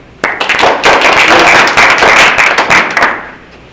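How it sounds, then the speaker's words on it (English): A quick round of applause from an amateur radio gathering's audience bursts in suddenly, dense close clapping that holds steady for nearly three seconds and then stops abruptly. "Quick round of applause real quick for Jeff."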